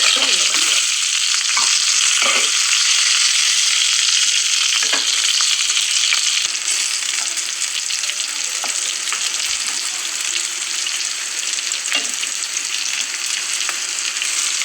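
Stuffed ridge gourd frying in oil in a pan, a loud, steady hiss and sizzle with occasional crackles and light stirring sounds throughout.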